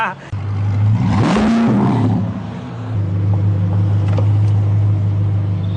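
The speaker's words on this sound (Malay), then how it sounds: "Biasa kereta kereta-kereta sport macam ni memang bunyi dia kuat sikit" A sports car engine revs loudly and close by, rising briefly to a roar before settling back to a deep, steady idle rumble.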